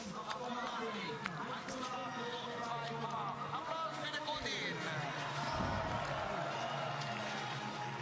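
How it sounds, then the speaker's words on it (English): Spectators cheering at a Davos ski race for a Swiss skier, a broad steady crowd roar with claps and shouts under ongoing commentary. "So the crowd happy that they've got a Swiss up there"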